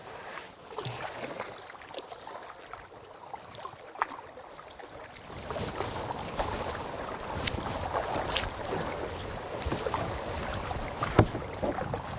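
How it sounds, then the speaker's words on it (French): A motorboat running on open water near mountains, with a steady broadband engine and hull wash rising after a few seconds, some wind buffeting the microphone and occasional sharper splashes. "Bateau à moteur."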